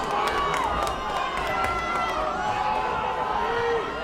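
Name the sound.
crowd at high school football game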